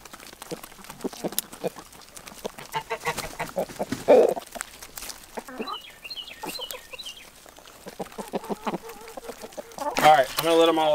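Leghorn chickens cluck and a rooster calls intermittently nearby, with people talking over the flock throughout.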